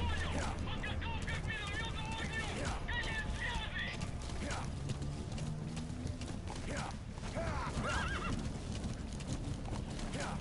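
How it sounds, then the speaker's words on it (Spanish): Horse in Metal Gear Solid V: The Phantom Pain gallops with steady clip-clop hooves and lets out repeated whinnies and neighs, loud and close, over a dense game soundscape. "¡Corre, caballo!"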